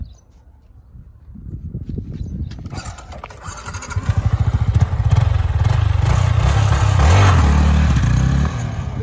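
A Yamaha R15M sport motorcycle launches with traction control, its engine revving up hard and roaring away, the loud rising drone building then holding steady, with some mechanical clatter at the start.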